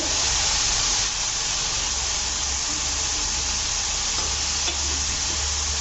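Ridge gourd sautés with chili powder in a pan, giving a steady, loud, close sizzle and hiss that runs unbroken throughout with no talking.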